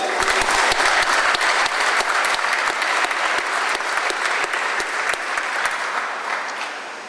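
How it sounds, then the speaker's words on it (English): An audience at a military change of command ceremony at Camp Casey claps steadily. Dense applause carries on throughout and slowly tapers toward the end. "Let's give them a round of applause as well."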